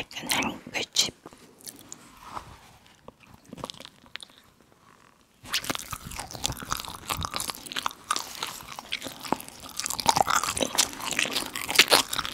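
An edible bath towel being bitten and chewed close to the mic for ASMR eating, with repeated crisp crunches and wet, squishy chewing sounds, a quieter stretch in the middle, then denser crunching.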